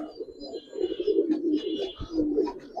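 Giribaz pigeons, a parent pair, give soft low coos and brief wing flutters up close as they are let go, fairly quiet with no talk over them.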